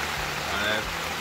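Rain falls steadily on a camping tent, a dense close patter filling the short moment, with a voice briefly present underneath.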